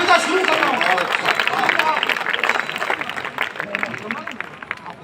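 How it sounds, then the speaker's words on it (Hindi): Audience applause at a Hindi poetry recital, with steady dense clapping and crowd murmur that gradually thins toward the end. "आप ताली बजाइए"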